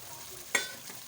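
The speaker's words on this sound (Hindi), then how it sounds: "अब हम इसमें फ्राई हुआ चिकन डाल देंगे" Fried chicken pieces drop into sizzling masala for a chicken qorma gravy: a soft frying hiss broken by one sharp clack and splash midway, quiet and close, with no speech.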